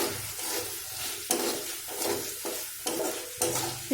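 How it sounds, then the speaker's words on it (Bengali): A spoon scrapes and turns small paneer cubes with spices in a pan, in repeated strokes about a second apart over a constant frying hiss, with no talking. "এটাকে এরকম 10-15 মিনিট ধরে এটাকে একটু নেড়ে চেড়ে নেব, যাতে পনিরের মধ্যে মশলাগুলো একটু ঢুকে যায়"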